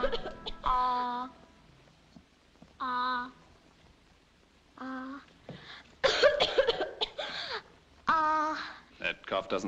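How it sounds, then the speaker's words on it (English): A young woman's harsh, repeated coughing in an indoor period-drama scene, coming in several close bursts of two or three coughs each, with brief spoken exchanges between them. "That cough doesn't seem any better"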